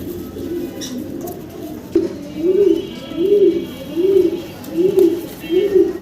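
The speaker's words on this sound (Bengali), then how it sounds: "দেখেন কবুতর কতটা চঞ্চল এবং ছটফট করতেছে খাঁচাতে" Yellow Carmoner pigeons in a cage coo over and over in a steady, pulsing rhythm, close and clear, with a faint background hum and a brief knock early on.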